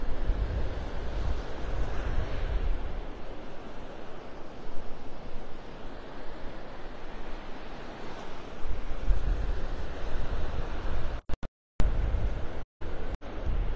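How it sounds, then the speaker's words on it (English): Strong wind buffets the microphone on a Gulf beach at Delnor-Wiggins in North Naples, Florida, at sunset: a loud, continuous roar with surf beneath it and brief dropouts near the end. "There's so much wind out here, it's going to be hard to hold this camera steady."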